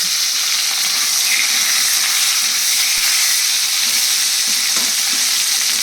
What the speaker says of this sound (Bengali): আমার ফোড়নটা হয়ে গেছে, এবার এর মধ্যে আলুটা দিয়ে দিচ্ছি